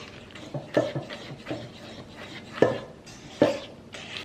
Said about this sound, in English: So now I'm just gonna stir in my chocolate and butter.